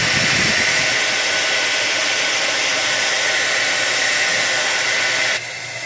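A hair dryer blows steadily and loudly at close range, warming beard wax in its tin, a constant broadband whoosh that runs nearly six seconds before dropping abruptly at the end.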